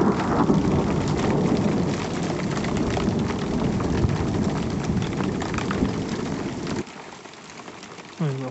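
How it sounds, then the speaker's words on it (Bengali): A heavy thunderstorm at a mountain trek base camp, with loud rain pouring and deep rolling thunder rumbling close for most of the time, then the roar drops away near the end, leaving lighter rain. "প্রচুর জোরে আকাশ ডাকছে"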